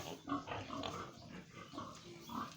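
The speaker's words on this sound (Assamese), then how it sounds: "আপোনালোকে দেখিছে এয়া গাহৰি, এইটো বহুত ডাঙৰ" Pigs on a pig farm in Bongaigaon give soft, low grunts and snorts, faint and fairly continuous over quiet farmyard background.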